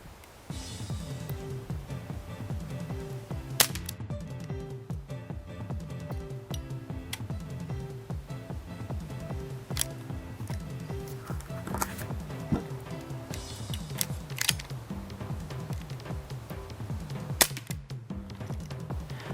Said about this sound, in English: I guess we'll just start shooting at the targets.